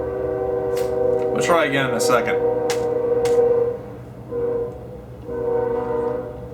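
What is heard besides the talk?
train passing by with horn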